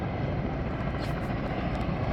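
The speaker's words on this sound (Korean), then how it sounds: "헬기들이 여러 대가 한 세 대 정도 되는 것 같아요." Roughly three firefighting helicopters fly over a wildfire near a walnut farm, their rotors and engines making a steady, dense, somewhat distant roar that fills the whole stretch without any talking.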